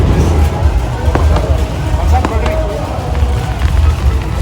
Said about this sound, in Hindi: वाला पटाखे फोड़ रहे धमाके